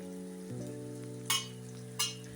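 Curry leaves drop into hot mustard oil for a Bihar-style chicken curry, giving two short, sharp bursts of sizzling over soft steady background music.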